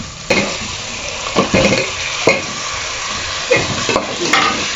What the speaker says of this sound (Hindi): अब इसमें थोड़ा सा हम गरम मसाला डालेंगे और तो चिकन जो है इसमें डाल के हम